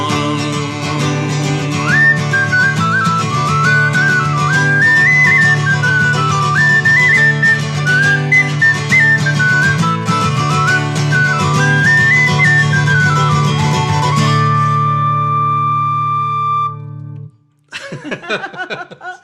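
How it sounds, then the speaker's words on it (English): A loud, piercing whistled melody rides over a steady accompaniment, climbing to a sustained high note before the music stops abruptly. "It's a small room and it's a loud whistle and that high note."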